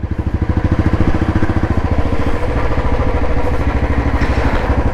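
A Royal Enfield BS6 motorcycle with an aftermarket silencer idles with a deep, throaty, rapid thumping pulse, loud and close, steady throughout with no talking.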